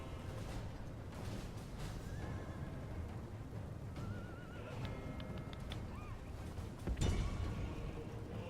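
Horse archers in the Medieval II video game: several horses neigh and whinny at mid distance over a steady bed of hoofbeats and wind-like battlefield ambience, ending in a louder burst near the end.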